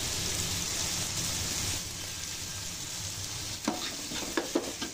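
Small tomato pieces and curry leaves hit hot oil for a vegetable upma tempering, a loud, dense crackling sizzle that settles into a softer fry, followed by a few spoon knocks against the pan.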